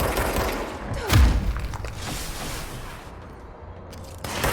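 Enemy gunfire erupts in the video game Control, loud near bursts with a heavy thudding impact early on, then scattered shots and rattling volleys before another burst at the end.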